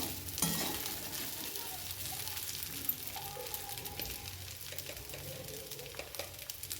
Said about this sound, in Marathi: आणि दाण्याचं कूट आपल्याला टाकून द्यायचं आहे आणि सर्व मिक्स करून घ्यायचे आपल्याला अशा पद्धतीने